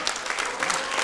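A concert audience in a radio studio applauds, a dense, even wash of clapping hands lasting about a second with no pauses.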